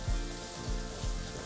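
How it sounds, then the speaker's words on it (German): Chicken breast frying on a teppanyaki grill gives a steady, close sizzle with soft crackles and a few low thumps, with no talking. "Das lassen wir jetzt hier mal alles so ein bisschen anbraten."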